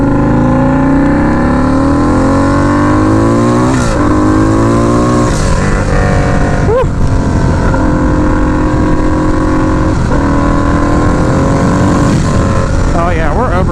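A turbocharged Harley-Davidson V-Rod motorcycle revs and accelerates under boost, its engine note rising in repeated sweeps between gear changes, loud and close throughout, with a rider's voice heard faintly at times.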